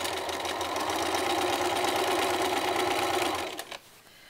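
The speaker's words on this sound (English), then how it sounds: "And I'm sewing on a Bernina," Bernina sewing machine stitching a rope cord seam, a fast steady mechanical whir with rapid needle chatter, close and continuous, stopping near the end followed by a few faint handling clicks.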